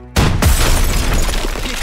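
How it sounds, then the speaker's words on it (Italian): Explosion in Call of Duty WWII in a wartime battle: a sudden loud blast that breaks a brief hush, then a sustained roaring, crackling rumble that fills the rest of the moment. "Occhio all'esplosione!"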